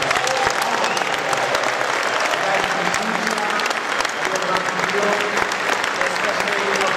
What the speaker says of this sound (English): let's get a big applause